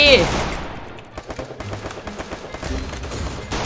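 Rapid bursts of automatic gunfire from the Free Fire battle royale video game, sounding in fast repeated volleys that stay fairly steady through the whole short clip, with a brief louder burst at the start.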